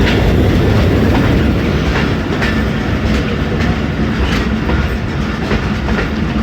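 Jaffar Express passenger train with economy-class coaches running on rails in foggy winter weather, a loud steady rumble with continuous clickety-clack of wheels over the track, heard up close from aboard.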